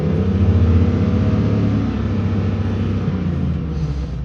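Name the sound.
Chevy truck LM7 engine revving to 4,000 RPM during crankshaft relearn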